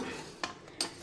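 Rice being stirred in a cooking pot for a special lunch, with a soft background sizzle broken by three short scraping strokes of a spoon against the pot, quiet and close.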